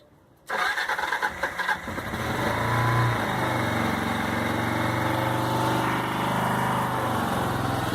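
A motorcycle engine that has sat unused for months coughs and sputters into life after a quiet start, then settles into a steady, close idle.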